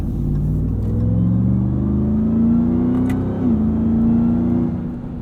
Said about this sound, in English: This exhaust is just perfect. No drone. It sounds great on throttle.